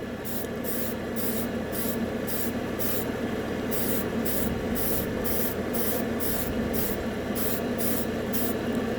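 An airbrush blows air to flash-dry a layer of Vallejo metal paint. Its close, steady hiss pulses rhythmically as the trigger is worked, and it runs alone throughout.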